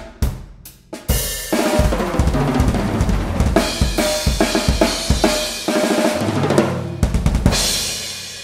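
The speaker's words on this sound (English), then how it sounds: "This is a drum set. It sounds like this." A drum kit played solo, opening with a few sharp hits and then settling into a steady groove of loud, punchy kick, snare and cymbal strokes with a brief fill near the end.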